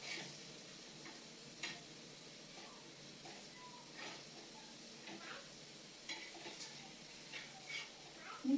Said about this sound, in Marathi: मी आपली सगळी फीस तव्यावर घातली आहे